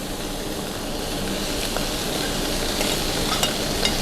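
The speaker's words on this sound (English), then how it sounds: "Okay, now let's get our rice in." Rice going into a hot pan for nasi goreng, stirred and frying with a steady sizzle and hiss, scraping of a utensil now and then, close and continuous without speech.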